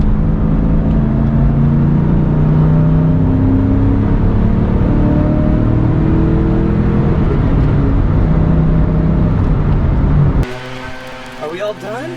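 Sustained loud engine roar of a 1996-98 Mustang Cobra with Flowmaster 40 series exhaust accelerating hard in third gear, rising steadily for about ten seconds before cutting off abruptly.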